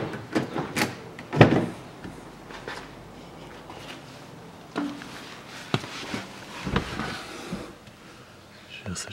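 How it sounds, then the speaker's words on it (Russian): Door of a 2012 Hyundai Solaris being opened, giving several close, sharp clicks and thumps of the latch and panel, with quieter handling noises and footsteps between them. "Открываю дверь."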